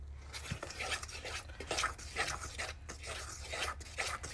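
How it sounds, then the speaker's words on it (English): Cobbler batter being mixed with milk in a bowl inside a van on the road, with soft repeated scraping and stirring strokes that are close and fairly quiet and carry no talk. "And you're going to mix this up to come to like a pancake consistency."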